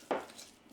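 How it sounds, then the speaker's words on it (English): A fork squishes and mixes a crumbly Obatzdn cheese mixture in a bowl, one short close soft scrape-and-tap followed by a faint touch at the very end. "You squish the stuff with the fork, mix it, squish it"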